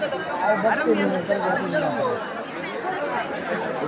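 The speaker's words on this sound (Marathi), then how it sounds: "मित्रांनो पाहू शकता किती गर्दी आहे।" Dense crowd chatter fills the Chhabina festival in Mahad, Raigad, a steady close hubbub of many overlapping voices as people move through the throng.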